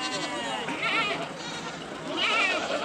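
Goats bleat repeatedly at a busy Saturday goat market in Angallu, the calls rising over a steady crowd murmur while people talk nearby.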